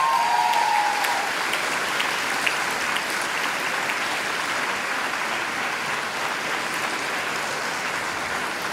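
Graduation ceremony audience applauding: dense, sustained clapping from a large crowd that starts strong and holds steady to the end, with no talk over it.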